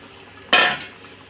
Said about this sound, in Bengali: আমি এখন এই আলুটা আর এই সেটা আমি ঢেলে দেবো